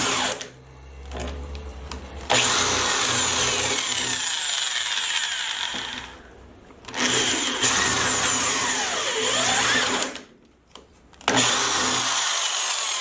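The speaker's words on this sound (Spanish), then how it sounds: "Ahora con una broca de 5 octavos, que son alrededor de los 16 milímetros, haré perforaciones guiadas por las anteriores" A drill fitted with a 5/8-inch (16 mm) bit bores slowly into wood, following earlier guide holes. It runs in three loud, steady whirring bursts, separated by short pauses.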